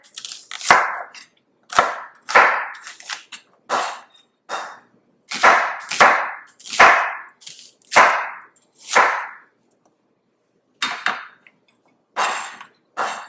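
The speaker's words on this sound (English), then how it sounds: "Now I'm chopping up my shallots." Crisp knife strokes chop through shallots on a board, coming in quick bursts of two or three with short pauses between, close and fairly loud.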